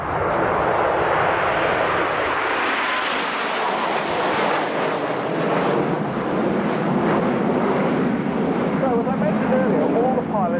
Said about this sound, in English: The pilots here flying about 2G in this manoeuvre, which is about a 3/4 barrel roll